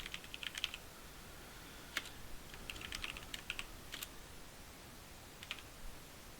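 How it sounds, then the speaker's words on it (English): Typing on a computer keyboard during a tabletop RPG development session: scattered, quiet key clicks in short bursts with pauses, faint against a low background hiss and no talk. "What am I typing?"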